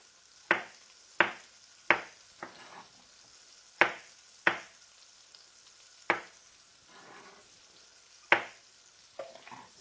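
Faint frying hiss of fat melting and bubbling in a pan for vegan pan-fried gnocchi sits beneath a series of sharp, irregular knocks and taps from a pan or knife, heard close and quiet.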